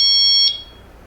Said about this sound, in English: here we go, ringtone alarm